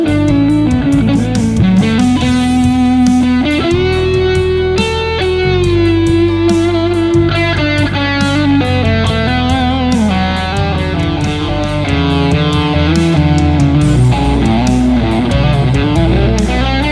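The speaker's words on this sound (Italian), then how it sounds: "Aumentiamo un po' la distorsione." A Fame Custom ST electric guitar with a rosewood fingerboard and worn finish is played through heavy distortion. Loud sustained chords and melodic lines run continuously and up close, with no voices.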